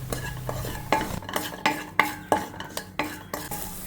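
Diced eggplant is stirred and sautéed in a pan, a utensil scraping and knocking in a quick, regular rhythm of sharp strokes over a soft sizzle, close and clear with no talking.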